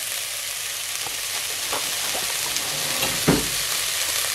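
Ginger and garlic frying in a pot for beef pilau, a steady close sizzle with a few soft stirring clicks and one brief louder spatter near the end.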